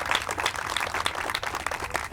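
Audience applause at a greenhouse ribbon cutting, a dense, steady patter of many hands clapping close by, lasting throughout without a break.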